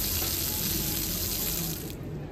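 A strong spray of water gushes steadily and loudly, a dense hissing rush close by, soaking people at an outdoor spot in Bruges, Belgium, then eases slightly near the end.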